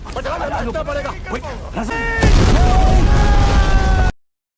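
A dramatic movie soundtrack with voices and sustained tones swells into a loud rumbling car explosion that roars on before cutting off abruptly.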